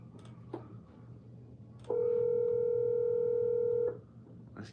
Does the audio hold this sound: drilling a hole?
no